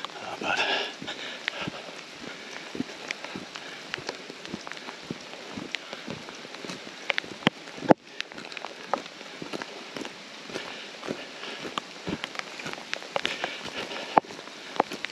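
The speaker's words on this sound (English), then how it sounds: "It's raining pretty good." Rain falls steadily during a woodland hike, a dense close patter of drops on leaves and ground with scattered sharper splats and occasional footstep-like knocks.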